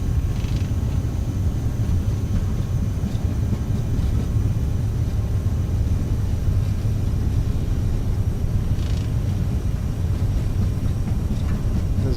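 An Aerosoft CRJ-900 airliner in Microsoft Flight Simulator makes a steady, loud jet engine roar with a low rumble as it rolls for takeoff, continuous and even throughout without talk.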